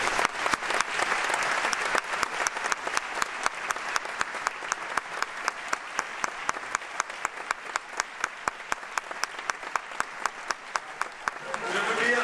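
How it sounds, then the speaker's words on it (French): A theatre audience in Morges, Switzerland, claps steadily to welcome explorer Mike Horn, with dense, even applause that holds for about twelve seconds before thinning out at the end. "On l'accueille avec des applaudissements"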